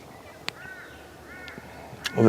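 A bird perched on the door of a Troopy four-wheel drive gives a few short, fairly faint caws and chatters over an outdoor background, with a louder noise building at the end.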